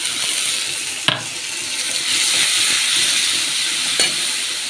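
Spice paste hits hot oil with onion and cumin in a small kitchen pan, a loud, close, roaring sizzle with a couple of metallic clanks from stirring, no voices.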